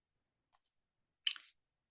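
Two quick, faint mouse clicks land close together, followed by a slightly longer soft clatter of clicks, all isolated against silence.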